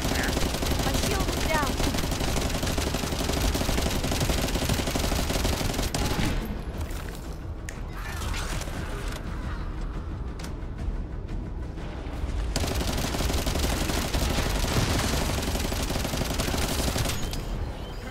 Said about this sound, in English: I literally fired all 400 rounds.